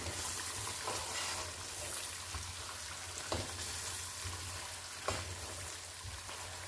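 Chicken with crushed chili sizzles steadily in a pan for achari chicken while a spoon stirs it, with a few sharp scraping clinks over the constant frying hiss and no talking.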